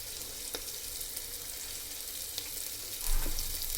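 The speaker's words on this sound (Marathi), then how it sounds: "छानपैकी मोड आलेले मूग कांद्यामध्ये परतून घ्या" Sprouted moong beans sautéing with onions, turmeric and coriander powder in a pan, a steady close sizzle with occasional stirring scrapes and a louder surge near the end.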